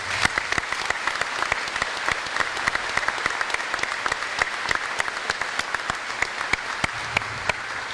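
An audience at a fighter wing change of command ceremony applauds a band, with sustained clapping made of many distinct sharp hand claps spread evenly over eight seconds at moderate loudness.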